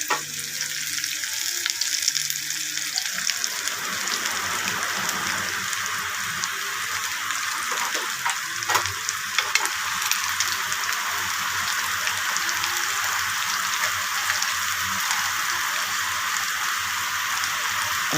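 Peanut cutlets frying in oil, a constant crackling sizzle with occasional sharper pops, close and even throughout, with no speech.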